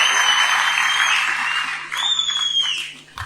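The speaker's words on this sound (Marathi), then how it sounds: "आपण जोरदार टाळ्या वाजून त्यांचं मनापासून अभिनंदन आणि कौतुक करूया" Loud, sustained applause from a large crowd at the NCP party's 25th foundation day event, a dense continuous clatter that thins slightly toward the end.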